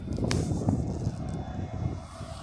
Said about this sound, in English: Sounds like the 777, doesn't it? It's coming to land.